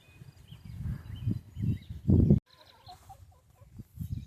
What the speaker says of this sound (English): Here's my chickens.